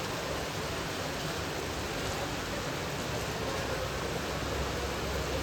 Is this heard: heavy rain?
yes